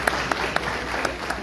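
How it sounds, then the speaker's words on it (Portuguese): Brief applause for birthday celebrants during a Sunday morning church service, a short patter of claps from the congregation at moderate level, with a few sharper individual claps standing out. "Salva de palmas para os aniversariantes"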